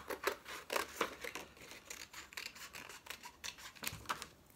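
Scissors snipping through paper to cut out a quarter circle, a close, quiet series of sharp crisp snips in an uneven rhythm, about a dozen cuts with light rustling of the paper between them.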